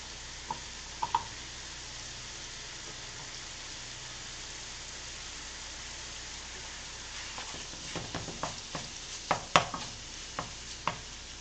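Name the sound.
kale stems sizzling in a frying pan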